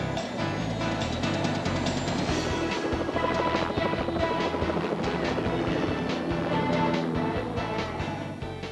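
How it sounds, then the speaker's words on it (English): A helicopter drones steadily and loudly, its rotor thumping in a continuous rhythmic chop with broad rushing noise and no pauses. "You're going to need a helicopter."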